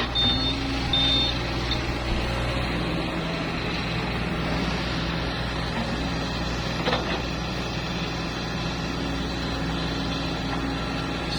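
A Kobelco SK140LC-8 Super X excavator engine runs at a steady idle, a loud, continuous low drone with a faint tonal whine on top, close by and without interruption throughout.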